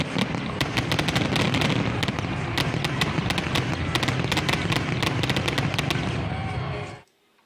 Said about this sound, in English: they ended things on Saturday with fireworks